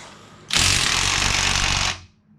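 A single loud burst of a Craftsman electric impact wrench rattling hard on Jeep YJ 2.5 engine head bolts for about a second and a half, close by, then stopping.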